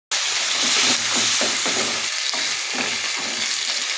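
A paste of fresh chilli, onion, ginger, garlic and cumin hits hot oil with a sudden loud hiss, then sizzles and spits steadily while a spatula scrapes and stirs through it, close up and without speech.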